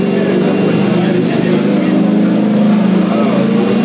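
Loud racing motorcycle engine droning close by as the bike is ridden, a steady buzzing tone with slight shifts in pitch, partly under a rider's voice.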